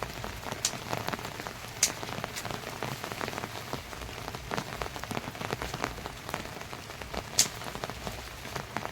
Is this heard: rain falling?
yes